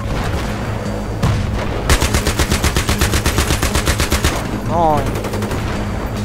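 Loud, rapid automatic gunfire from the Battlefield 3 video game rattles in steady bursts for several seconds, with brief pauses between volleys and a player's voice speaking over the shooting.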